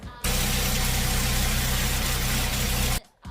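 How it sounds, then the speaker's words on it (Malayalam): A Hyundai Venue turbo petrol engine with a DCT gearbox runs steadily for about three seconds, a close, loud, even hum with no voices, starting and stopping abruptly. "നിങ്ങൾ വണ്ടിയുടെ സൗണ്ട് വ്യത്യാസം, എഞ്ചിൻ നോയ്സ് ശ്രദ്ധിച്ചിട്ടുണ്ടോ?"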